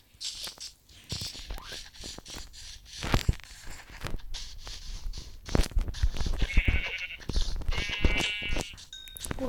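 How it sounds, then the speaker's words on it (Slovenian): Sheep in a Minecraft game bleat in short wavering calls partway through, mixed in with clicks, thumps and other busy game sounds while a voice talks at intervals. "Oto me ena ovca."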